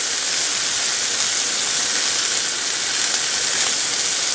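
Old Bay seasoning roasting with salt and pepper in a hot pan for a crustless crab quiche Lorraine, giving a steady, loud sizzling hiss that stays even and unbroken throughout, with no voices.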